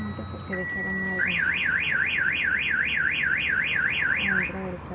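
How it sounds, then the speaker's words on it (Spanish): An Avital car alarm with a screen remote goes off nearby: a few short chirps and a steady tone, then a loud rapidly warbling siren sweeping up and down, ending with more chirps. "les recomiendo una alarma con control de pantalla"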